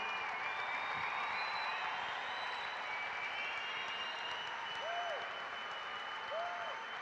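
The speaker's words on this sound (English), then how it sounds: "If we could get a round of applause for Ray Somberg." Sustained applause from an audience at a Guns & Hoses police and firefighter charity event in Omaha, a dense steady wash of clapping held at even loudness throughout, with a couple of faint whistles.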